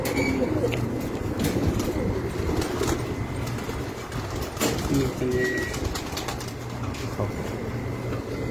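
Pigeons on a rooftop loft coo steadily under a dense, noisy outdoor bed with a low rumble, the birds close and continuous throughout.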